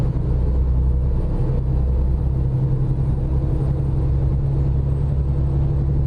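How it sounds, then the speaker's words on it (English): In American Truck Simulator, a steady, deep truck engine rumble drones throughout with a low hum, a heavy vehicle idling or cruising at constant volume with no voices. "the sounds on the truck right now, they are not even close to realistic"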